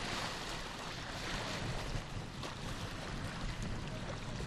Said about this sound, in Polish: Jest dość silny wiatr i no i po prostu ja uważam, że dmucha gdzieś